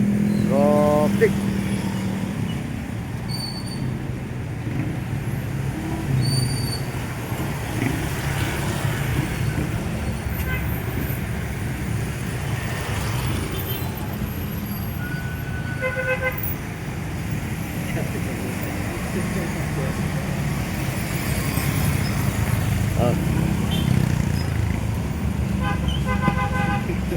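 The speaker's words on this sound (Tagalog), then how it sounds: "Traffic." Heavy road traffic on C5 Road near Commando Street in Taguig, a steady roar of cars, buses and motorcycles with repeated car horn toots scattered throughout, and voices talking intermittently.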